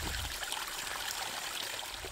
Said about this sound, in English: The clear trickling sound of the stream makes this spot ideal for a short break.